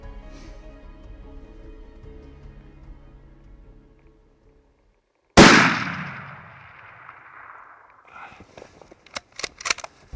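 One sharp, loud rifle shot at a mule deer buck cracks out close by in quiet Colorado country and echoes away, followed by faint rustling and handling noises.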